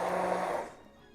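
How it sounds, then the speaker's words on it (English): Immersion blender whirring through peeled tomatoes in a short burst, a steady mid-pitched motor drone that fades off at the end, close and loud with no talking. "So if you use your immersion blender by only pulsating it like I just did, you will have a more of a rustic end result"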